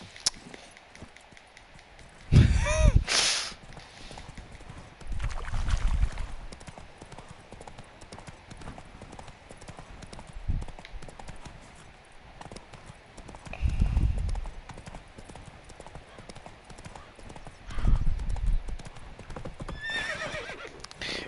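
Horse hooves clip-clopping in a PS4 video game, several bursts of hoof beats at intervals with occasional whinnies, fairly close over a low background hum.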